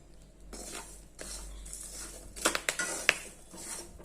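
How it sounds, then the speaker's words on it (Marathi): Peanuts roast in hot salt in a pan, stirred with a scraping rustle, while a few sharp pops and cracks burst out near the end. "शिजवताना छान असा आवाज येते असे फुटतात शेंगदाणे"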